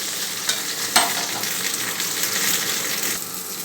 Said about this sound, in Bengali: খুব বেশি ভাজার দরকার নেই, একটু সাঁতলে নিতে হবে, ভেজে ভেজে সাঁতলাবো আমি